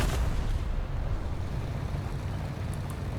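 Gunfire and explosions from a Tiger E tank battle video game, a dense continuous rumble of low booming blasts and rattling fire filling the whole stretch at steady loudness, with no voices.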